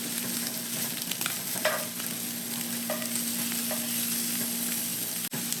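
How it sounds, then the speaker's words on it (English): Sausage frying in a cast iron pan, a steady close sizzle with light scraping and sliding as the links move across the hot surface, with no voices. "Look at that sausage just sliding around in there."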